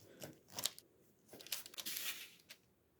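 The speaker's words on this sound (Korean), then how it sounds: "먼저 어묵 240g을 먹기 편한 크기로 잘라주겠습니다" A knife cuts a 240 g piece of fish cake into bite-sized pieces, giving soft, close, faint slicing and crinkling sounds in short bursts.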